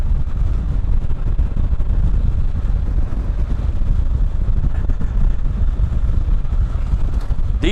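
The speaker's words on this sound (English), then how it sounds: "What an enjoyable Spyder to ride" A 2015 Can-Am Spyder F3 three-wheel motorcycle underway, with a steady engine drone buried under loud, continuous wind rush buffeting the microphone throughout, no voices heard.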